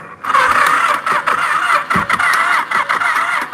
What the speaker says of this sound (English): I think it's the starter because it makes some noises.